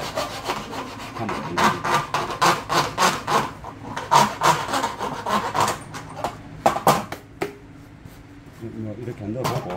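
Hand file rasping back and forth against the edge of a speaker mounting opening during a car audio install with a 6-inch two-way speaker, steady rhythmic strokes close up, with someone talking over parts of it.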